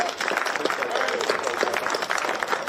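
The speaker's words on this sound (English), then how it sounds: "So I want to give them a big round of applause for that." Dense applause from an audience at a campus tree designation ceremony honoring a facility management team, a steady, full wash of clapping held at one level throughout, with some speech-like murmur mixed in.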